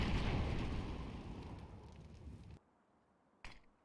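An incendiary grenade in Counter-Strike 2 bursts into a loud whooshing fire roar that fades, cuts off abruptly, then a brief sharp pop follows.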